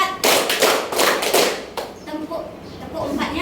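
A class clapping a counting rhythm game, with a burst of loud group claps near the start followed by lighter scattered claps and a teacher's voice.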